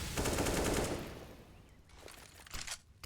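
A burst of rapid automatic gunfire in a Counter-Strike: Global Offensive pro match on the Inferno map, loud and dense for about a second, then fading into quieter scattered shots and crackles.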